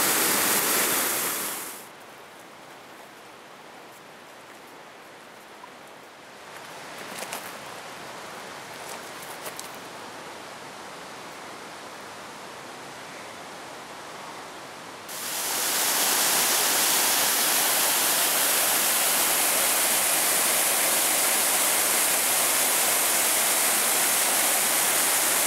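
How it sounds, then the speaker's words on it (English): A steady roar of falling water fills the scene, loud at first, softer and muffled in the middle, then surging back to full, close and continuous. "Awesome waterfall."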